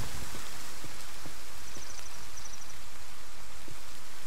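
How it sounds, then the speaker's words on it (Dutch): Rain falling in the survival game The Forest, a dense steady hiss of drops pattering on the ground with faint scattered taps, continuous and alone throughout. "Omdat het regent gaat mijn vuur uit."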